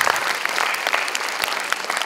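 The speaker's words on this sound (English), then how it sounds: "Please give a huge round of applause" Audience applause at a conference event, a dense steady patter of many hands clapping at even loudness throughout, with no voices over it.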